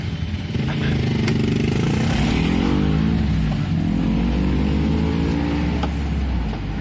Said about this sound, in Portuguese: A moto da BMW já do lado